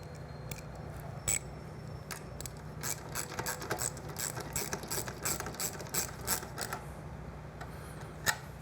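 A ratchet with a 10mm socket tightens a turn signal nut on a Triumph Bonneville T100 motorcycle, making rapid, close clicking bursts that come in repeated runs over a low steady background hum.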